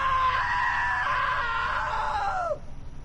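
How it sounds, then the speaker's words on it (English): A long, loud human scream held for about two and a half seconds at a steady high pitch, then sliding downward and cutting off abruptly, with no other voices. "Now that was a great scream."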